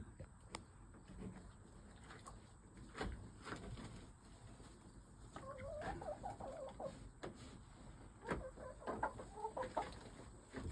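Hens cluck softly around a nest with eggs, a low, irregular run of faint clucks and murmurs with quiet background hum and occasional nearby talk.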